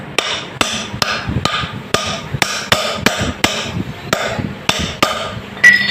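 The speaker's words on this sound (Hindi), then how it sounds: "ये बोल्डों के ऊपर दोस्तों एक एक चोट मारेंगे निकल की और इसको बिठा देंगे" A hammer strikes a new bush into place on a Honda CG 125 brake drum, about a dozen sharp, evenly spaced metallic blows ringing out close and loud with no talk.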